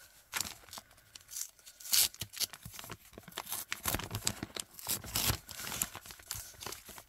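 Scrapbooking packaging paper is torn open in a series of close, crisp rips and crinkles. The bursts are uneven, loud in places and quieter between, with no talk.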